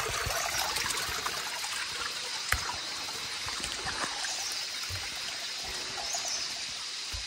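Water running out from beneath the ground among plants and stones, a steady outdoor stream-like rush and trickle that continues without pause, fairly close and even in level.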